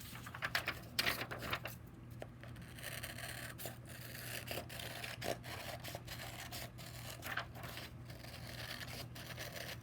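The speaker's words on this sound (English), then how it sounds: "So I'm just cutting this circle out." Scissors cut a circle out of paper for a kindergarten craft, giving soft intermittent snips and rustling scrapes in an irregular rhythm over a low steady hum, close and quiet with no talking.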